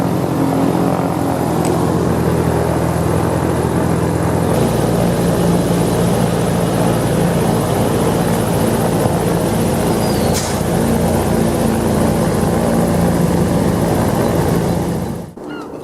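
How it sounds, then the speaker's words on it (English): Aeroplanes pass back and forth in front of an Art Deco building, a loud continuous engine drone that holds steady and shifts in tone partway through before cutting off at the end. "whilst outside with aeroplanes going backwards and forwards in front of me"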